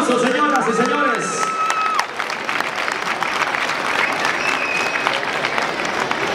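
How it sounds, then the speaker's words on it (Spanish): Crowd applause at a town fair pageant presenting its queen, a dense sustained wash of clapping with some cheering, with an announcer's voice at the start. "Denle el aplauso, señoras y señores."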